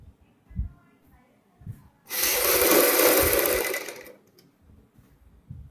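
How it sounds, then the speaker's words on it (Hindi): An electric sewing machine stitches piping along a kurti neckline in one steady, rapid two-second burst, close and loud, with quiet handling and breathing sounds before and after. "यहाँ पे हम किनारे पे सिलाई लगा लेते हैं।"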